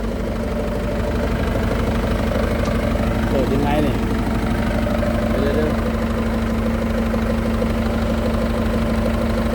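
An old excavator's rebuilt Mitsubishi diesel engine idles close by with a steady, rumbling, slightly knocking drone and a constant low hum. Someone talks briefly over it.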